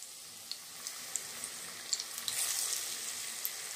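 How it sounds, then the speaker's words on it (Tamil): Batter-dipped potato bondas fry in hot oil, producing a soft, steady bubbling hiss dotted with sharp crackles and pops that grow busier toward the end. "டிப் பண்ணி இதை நான் எண்ணெயில் போட போகிறேன்."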